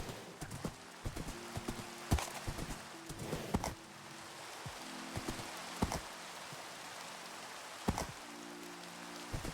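Horse hooves clip-clop in Minecraft, sharp irregular thuds over a soft patter of rain, with repeated tonal horse sounds between the steps and faint ambience throughout.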